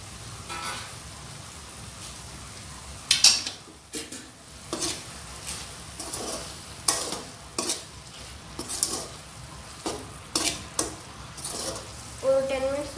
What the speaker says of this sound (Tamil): நம்ம வெண்டைக்காய் ஆட் பண்ணிக்கலாம்.